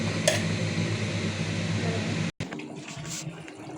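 Hot water is poured into a pot of chicken with potatoes cooking, a continuous liquid rush and splash that cuts off briefly, then continues more faintly.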